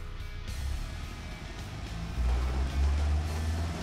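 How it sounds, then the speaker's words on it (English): Simulated car engine from the Automation design game, a 1.5-liter unit running with knock, a steady rough engine drone with lumpy low rumble that swells louder partway through, no voices. "Yep, that's the sound of knock."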